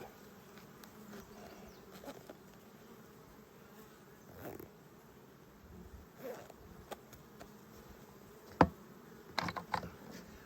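Honeybees buzz steadily around an open beehive, a close, continuous drone with a few faint clicks and knocks from handling but no talking.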